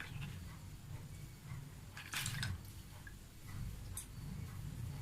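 Gold jewellery rinsed under plain water: soft dripping and trickling with light taps and a brief splashy burst, over a low steady hum.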